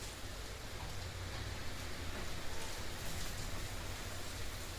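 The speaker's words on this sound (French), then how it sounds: "Oh, ça pleut bien, là." Heavy rain pours down during a storm, a dense, steady hiss of water hitting surfaces that holds constant and close throughout, with no voices.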